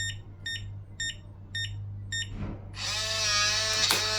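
A Weiser smart lock gives a row of short, evenly spaced electronic beeps, then a loud, sustained confirmation tone mixed with a mechanical whir, close and clear.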